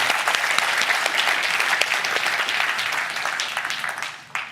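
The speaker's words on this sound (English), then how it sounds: "Everybody give a round of applause for our panel." Audience applause for a panel at the closing plenary of the 2023 UK AI Safety Summit, a dense, steady round of clapping filling the hall that fades out near the end.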